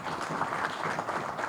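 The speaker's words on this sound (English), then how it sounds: "please can we just clap for them?" A room of people at a Zimbabwean political gathering on the voters roll applauds together, a dense, steady wash of clapping heard at moderate level throughout the short stretch.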